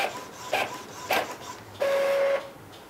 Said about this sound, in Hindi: मैं अभी प्रिंट कर रहा हूँ, ये देखते हैं इसकी क्या स्पीड से प्रिंटिंग होती है।